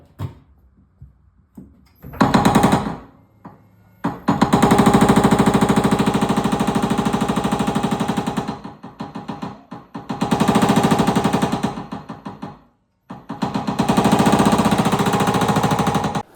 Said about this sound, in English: I just had him running the power hammer up on it.